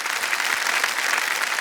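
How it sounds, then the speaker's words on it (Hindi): Studio audience at the KBC India quiz show applauding: a brief, dense burst of steady clapping from a large crowd, fairly close, without talk. "जोरदार तालियां एक बार फिर बनिए इनके लिए"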